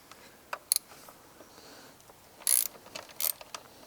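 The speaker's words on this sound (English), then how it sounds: "You're going to loosen these two bolts using a 10mm socket." A 10mm socket ratchet clicks in short bursts while loosening fork bolts on a Honda CRF300L motorcycle, several quick ratcheting spurts separated by quiet pauses.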